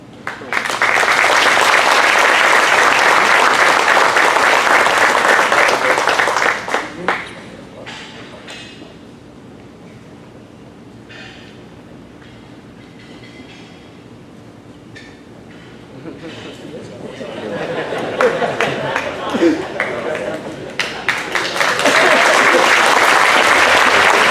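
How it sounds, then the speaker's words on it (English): Audience applause at a year-end football awards ceremony: loud sustained clapping fades into a quieter stretch, then builds back into a second full round of applause. "how about a round of applause for all of our teams"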